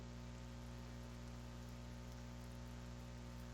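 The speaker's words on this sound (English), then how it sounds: "The rain drizzles, making my hair and jacket damp." Light drizzling rain falls in a forest, a steady, soft hiss of drops with no voices.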